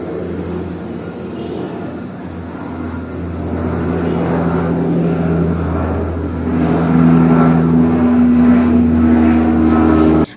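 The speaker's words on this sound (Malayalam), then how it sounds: "ഇതേ ഫ്ലൈറ്റ് പോകുന്നു" An aircraft passes overhead, a low droning engine rumble that builds steadily over ten seconds and grows louder toward the end, heard without speech.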